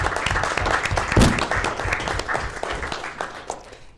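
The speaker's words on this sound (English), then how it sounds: "I will applaud for that too" Applause at an Anderson County Commission meeting, a burst of hand clapping from the room lasting a few seconds with one louder clap near the start, a few murmured voices underneath.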